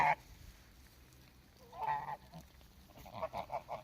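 Geese on a farm honk nearby in a few short bursts, with a loud honk at the start and a rapid series of calls near the end over quiet outdoor background.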